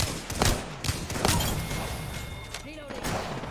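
Automatic gunfire in the video game Apex Legends comes as dense, rapid bursts, loud and close, with game effects mixed in.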